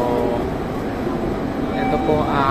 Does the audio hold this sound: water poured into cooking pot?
no